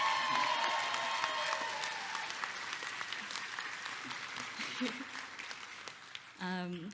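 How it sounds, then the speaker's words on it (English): An audience bursts into loud, sustained applause at an award ceremony honoring a community organization, the clapping strongest at first and slowly thinning, with a brief burst of speech near the end. "So can we get a round of applause for empowering API?"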